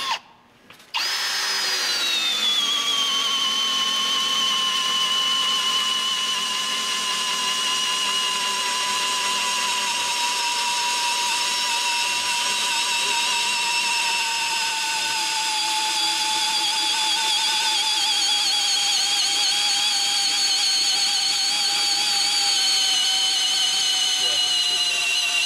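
A Milwaukee Fuel cordless drill with a smaller battery whines steadily at high speed boring into wood for a long stretch, a constant close mechanical tone after a brief start-up.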